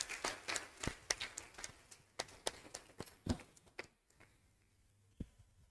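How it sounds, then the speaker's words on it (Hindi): A small audience at a seminar claps in scattered, uneven bursts that thin out and fade toward the end, fairly quiet overall. "इसलिए पुनः एक बार जोरदार तालियां।"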